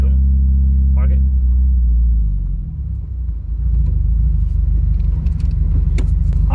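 Subaru WRX with a manual gearbox creeping forward as the clutch is released, a close, loud low engine rumble that dips for a moment and then settles back to a steady hum, with people talking in the car.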